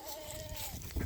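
Goats on a farm bleat in a short, wavering cry, fairly close but soft, with outdoor background noise and a few low thumps near the end.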